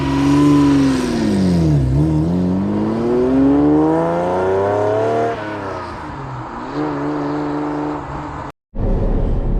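Ferrari Testarossa, an 1980s supercar, accelerates under load, the engine note climbing steadily through gears with a brief dip between shifts, loud and close, ending in a sudden cutoff.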